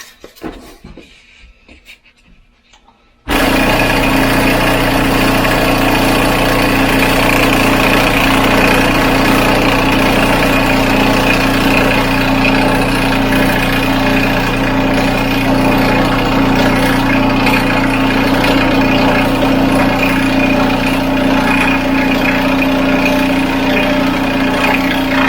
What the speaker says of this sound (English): I'll show you how I cut them on this saw